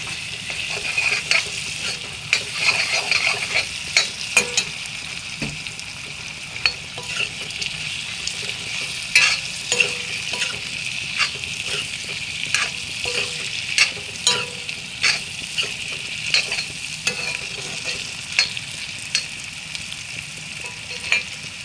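Ginger paste fries in a pan with a constant close sizzle while a utensil stirs it, scraping and tapping the pan in irregular strokes for the whole stretch, with no talking.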